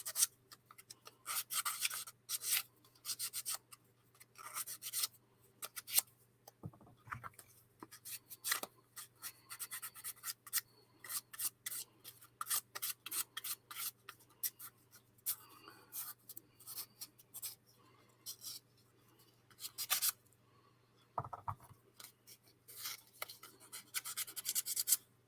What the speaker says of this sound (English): And I smoothen these out before I put them together.